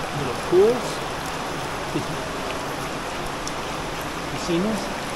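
A steady wash of trickling, splashing water flowing into small pools inside a cave fills the space, with a couple of faint, brief voice sounds rising over it.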